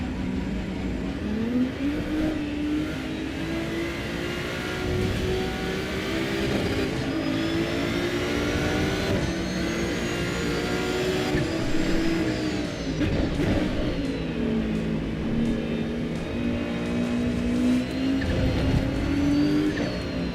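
A race car in the Assetto Corsa EVO racing game, its engine droning loud and steady with rising and falling revs across shifts, a faint turbo flutter riding on top.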